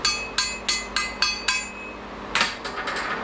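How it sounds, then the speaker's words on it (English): A hammer taps metal welds on a hydraulic rescue tool setup, giving a steady run of six sharp ringing strikes, then a pause and a quicker, softer cluster of four or five taps, close up with no talking. "a tap on the welds"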